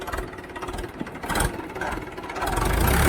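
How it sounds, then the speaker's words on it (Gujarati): Tractor engine running nearby, a rough uneven chugging drone that grows louder toward the end, no talk. "જોઈએ આપણે તુષાર કેવું ચલાવે છે ટ્રેક્ટર."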